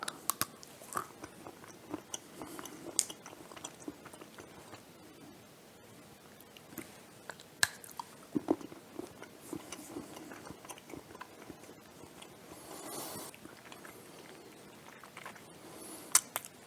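Someone bites and chews homemade tempered keto chocolate, faint intermittent crisp snaps and soft crunching spread over a quiet stretch, with no talk.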